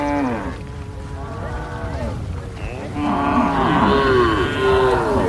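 Cattle mooing among Wodaabe herders at a camp, a young man's first cow; long harmonic lowing calls overlap, some near and loud, others further back, rising in strength toward the end.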